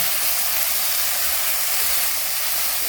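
Mushrooms and carrots stir-fry in a hot pan, giving a steady, loud, broadband sizzling hiss that continues evenly throughout with no talking.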